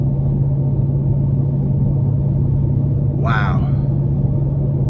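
Steady, loud engine drone and road rumble from inside a 2023 Dodge Challenger Widebody Jailbreak being driven in sport mode, with a brief exclaimed voice over it partway through.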